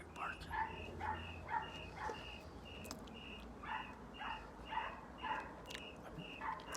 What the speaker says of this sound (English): Now there's another dog barking.